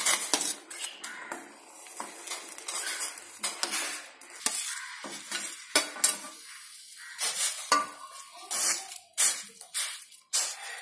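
A spoon stirs in a cooking pot holding pickled pineapple with clinking and scraping against the metal, irregular strokes close by with soft bubbling between them and no speech.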